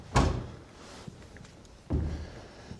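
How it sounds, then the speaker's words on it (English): A shop door in an abandoned workshop under renovation is pulled shut with a loud, close thud, followed a moment later by a second heavy knock as it settles. "Close the door."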